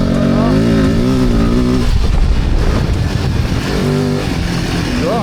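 An off-road trail motorcycle on a muddy Breton trail, its engine revving up and straining while the rear wheel spins and slides in the mud; loud and close throughout, the pitch rising and dropping as the throttle opens.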